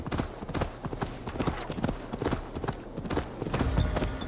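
Galloping horse hooves in the Assassin's Creed Valhalla video game, Oskoreia festival event: a fast, even clip-clop rhythm of close, distinct hoofbeats with no talking.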